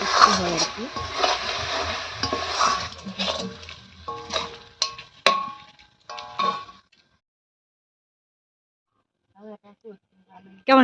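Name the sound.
stirring amla pickle in a kadai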